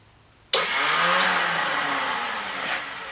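A Yamaha Commando motorcycle's electric starter cranks, kicking in abruptly from near silence into a loud, steady mechanical whir that holds for almost three seconds with no voices.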